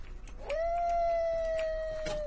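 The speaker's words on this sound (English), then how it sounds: "Oh, I hear my doggy." A single long, steady in-game dog howl in Minecraft rises and then holds a sustained tone for nearly two seconds, fairly close and clear.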